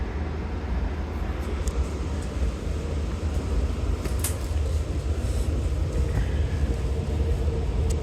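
Constant low rumble of a Long Island Rail Road train running toward Jamaica, heard from inside, steady and close with faint rattles and squeaks over the drone, no talk.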